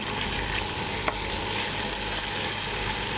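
Chicken fries in a hot pan with a dense, continuous sizzle, steady and close, with one brief tap partway through as the chicken is turned over.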